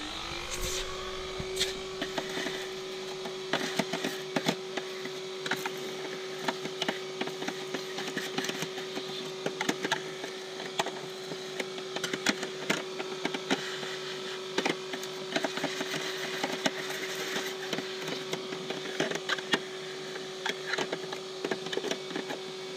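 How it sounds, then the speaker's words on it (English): A vacuum cleaner hoovers out a car's air filter housing; the motor starts up and then runs with a steady hum, while loose debris rattles and crackles through the nozzle throughout. "The first thing I'm going to do before doing anything is hoover this out"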